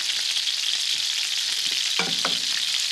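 Sauce fries in a pan, a loud, continuous sizzle with a few stirring clatters partway through and no talk.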